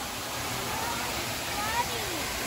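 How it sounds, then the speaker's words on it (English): Rainwater rushing down into a street sewer drain, a steady broadband wash of flowing water close by, continuous throughout without a break. "All the water's going into the sewer, right?"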